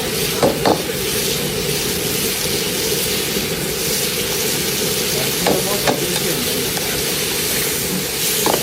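Squid adobo sizzles steadily in a pan, with a few sharper scraping stirs near the start and again around the middle. The frying hiss stays close and fairly loud throughout, with no talking.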